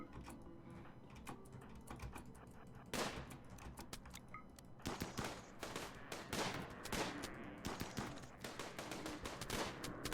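Gunfire in RimWorld, a colony game, as settlers shoot at a hunting animal; repeated quiet shots and short bursts crackle in irregular clusters over a low mechanical bed, with no voices.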